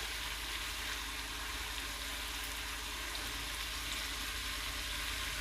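Spices sizzle in hot oil for chicken karahi with tomatoes, a steady dense frying hiss throughout, even and continuous at moderate volume with no talk.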